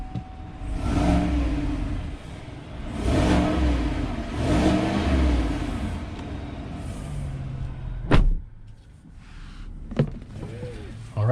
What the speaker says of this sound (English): let's go ahead and take this Chevy Silverado Trail Boss on a test drive